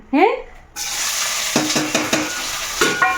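Sliced onions drop into hot oil for a masala chicken curry, bursting into a loud, close sizzle that continues with several metallic scrapes and clanks of a spoon stirring the pan.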